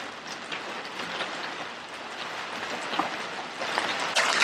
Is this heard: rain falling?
yes